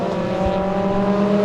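Race cars at the 750 Motor Club meeting at Rockingham circuit sweep through a corner toward a chicane, a steady loud engine drone with harmonic whine and a faint tyre squeal mixed in.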